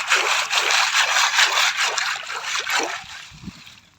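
Freshwater clams being rinsed and agitated in water by hand, a rhythmic rubbing slosh and splash that comes in quick repeated strokes up close, easing toward the end.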